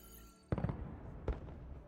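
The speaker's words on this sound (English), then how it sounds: "Fireworks!" Two sharp fireworks bursts go off in the video game Horizon Forbidden West, about a second apart, each with a short crackling tail, fairly faint and otherwise quiet.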